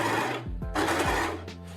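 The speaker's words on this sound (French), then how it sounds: "Je vais les surjeter ensemble, les deux morceaux." An overlocker serges two pieces of fabric together, its motor whirring loud and steady, with a couple of brief pitch dips as the stitching slows and picks up again.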